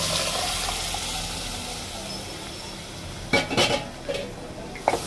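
Cooked dal tipped into a pot of sambar over fried spice masala in a home kitchen, under a steady background hiss, then a few clattering scrapes and knocks of a spoon stirring against the pot.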